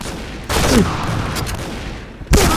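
Two loud bursts of gunfire in a Point Blank video game shootout, one brief volley followed by a pause and then a second sharp burst, both close and forceful.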